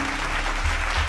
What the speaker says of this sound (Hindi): हाँ तो ताली बजा दीजिए